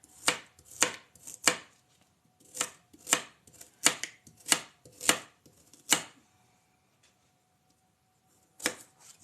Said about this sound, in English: We're dicing up some veggies we're going to roast.